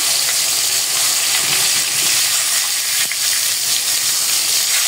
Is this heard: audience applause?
no